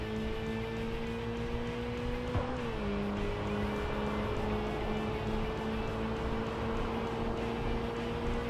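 A race car engine in the video game Tokyo Xtreme Racer 3 holds a steady, moderately quiet drone with a brief pitch drop from a gear change, continuous throughout with no talk.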